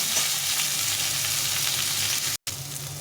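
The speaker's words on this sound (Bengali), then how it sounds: "করলাটা ভেজে দিয়ে ভালো করে ভালো করে ভেজে নিলে আর তেতো ভাবটা থাকে না" Bitter gourd (karela) fries in oil with a dense, continuous close sizzle and faint crackle, broken by one brief dropout near the end.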